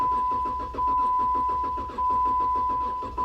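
A car engine cranks over on its starter motor during a relative compression test, a loud, steady, rhythmic chug of evenly spaced compression pulses running continuously with a faint electronic whine behind it.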